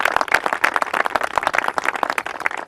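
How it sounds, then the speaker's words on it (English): Scattered clapping from a press-conference audience, individual claps clearly separated and uneven, moderately close, with no talking over it. "give your mayor and everybody a great round of applause for that"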